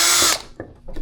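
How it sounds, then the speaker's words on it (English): A power drill bores a pilot hole into PVC pipe, running loud and close for a moment before winding down, followed by a couple of short drill bursts. "so we will pre-drill the hole right"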